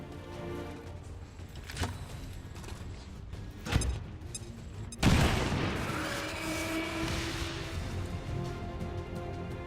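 A frag grenade in XCOM 2 combat: mechanical clicks and sharp gunfire cracks, then a loud booming blast that leaves a long rumbling, crackling roar.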